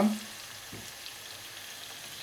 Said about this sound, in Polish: Najlepiej wziąć tą cebulę, smażyć od razu, żeby ona tam się troszeczkę zarumieniła.